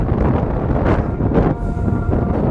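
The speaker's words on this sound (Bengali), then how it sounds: "এদিকে আসলাম একদম ঠান্ডা একটা হিম শীতল বাতাস" Cold wind blows steadily along a road in Bangladesh, rushing and buffeting the microphone in a constant low roar with no talking.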